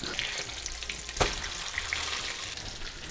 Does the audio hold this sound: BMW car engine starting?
no